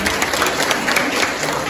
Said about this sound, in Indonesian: Berikan tepuk tangan kepada Pastor